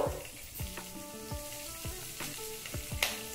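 Slit green chillies fry in oil for lemon or coconut rice, a close, bright sizzle broken by regular sharp clinks and knocks of a utensil against the pan.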